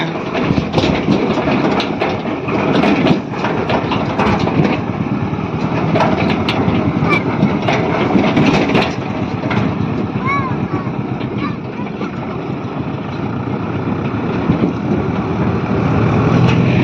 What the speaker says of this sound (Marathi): ट्रॅक्टर खूपच हलतोय